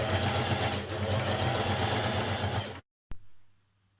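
Sewing machine running steadily while top stitching along the very edge of a dress armhole, a continuous buzzing whir that cuts off abruptly near the end, followed by a brief click and a short fading hum.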